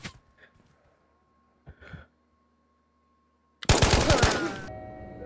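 In the video game Ghosts of Tabor, a loud, close burst of rapid gunfire erupts after a few quiet seconds with faint breaths and shuffles, and the shots end in a brief echoing tail.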